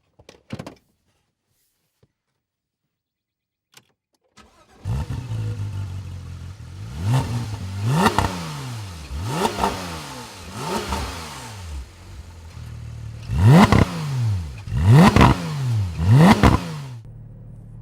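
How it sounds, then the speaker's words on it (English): A Porsche 991 GT3 sports car climbs a hill after a silent start, its engine revving hard through repeated rising sweeps and gear changes, loud and close, with sharp bursts near the end. "this is the new GT3 being driven up a hill somewhere in Europe"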